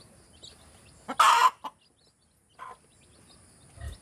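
Native chickens cluck in a few short, separate bursts, one louder near the start and softer ones later, close by in a quiet yard.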